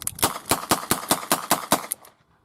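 Rapid shots from a Smith & Wesson 9mm revolver, about ten sharp cracks fired at an even, fast pace over two seconds, loud and close, followed by quiet.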